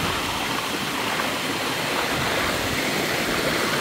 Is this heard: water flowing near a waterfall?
yes